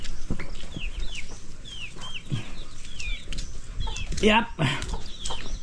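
Hens and a brood of about eleven young chicks cluck and cheep close by in a sunny home yard, with sharp high peeps over low clucking while a person speaks briefly nearby.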